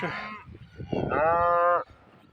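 Cows near the ancient fortress town of Targim in Ingushetia moo up close: a short low call, then a longer, loud, drawn-out moo, with no talking.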